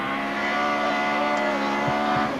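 A Subaru rally car on a stage of the 2001 Tour Natal rally near Umzinto, South Africa, its engine droning loud and steady, close by, with a few sharp knocks near the end.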